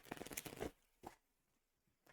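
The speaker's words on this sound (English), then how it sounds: "I am not doing a great job of shuffling here." Playing cards are shuffled by hand during a tabletop game, a close, quiet riffle of papery flutters followed by a couple of brief soft card rustles.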